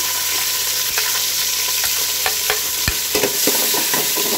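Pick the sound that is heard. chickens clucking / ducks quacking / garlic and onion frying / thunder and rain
garlic and onion frying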